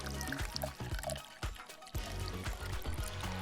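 Tap water pours into a cleaner concentrate bottle, a close gurgling fill with rhythmic glugs that pause briefly before the flow resumes.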